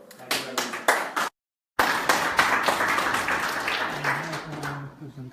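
Audience applause after a presentation at a FutureNet event in Birmingham, steady close clapping from a room of people, cut by a brief dropout, then tapering off as a voice begins under it.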